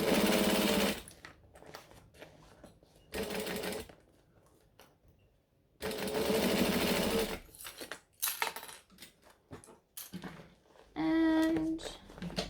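A sewing machine stitches a fabric bangle bag in several separate runs of rapid, steady needle hammering, broken by short pauses and small handling sounds, with a brief higher whirring burst near the end.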